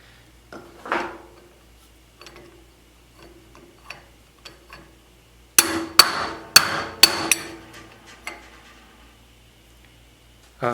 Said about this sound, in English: we pound it this time, we're going to try not to hit anything except the ball bearings